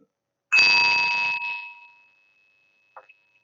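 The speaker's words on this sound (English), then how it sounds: "I have a singing bowl." A singing bowl is struck once and rings with a clear sustained metallic tone that fades over about two seconds, followed by a faint light tap.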